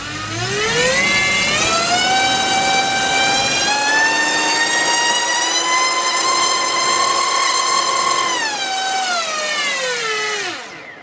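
A small drone brushless motor and propeller on a thrust measuring stand, driven by a KISS 24A or generic ESC, whine up quickly to a loud steady pitch, hold it for about eight seconds, then spin down at the end, with no talk.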